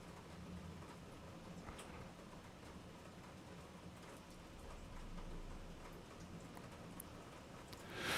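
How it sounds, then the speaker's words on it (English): Hail and heavy rain pelting down during a severe thunderstorm in Missouri or Kansas, a dense steady roar of hits with low rumbling underneath, swelling louder in the final second. "The hail is significant. Can you hear that?"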